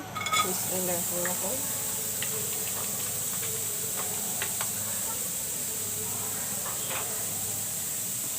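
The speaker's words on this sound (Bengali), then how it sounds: "এখন আমি পেঁয়াজ দিয়ে দিচ্ছি" A soft, steady hiss of onions sizzling in a pan runs throughout, with a voice speaking quietly over it.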